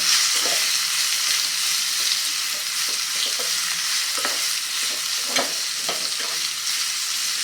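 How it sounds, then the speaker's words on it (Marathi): Guava pieces and chillies fry in a pan, giving off a steady close sizzle. Scraping stirs break through it at irregular moments, and no one talks. "आता यामध्ये हा जो आपण पेरू चिरून घेतला त्या पेरूच्या पोळी घालून देऊया मिक्स करून घेऊया"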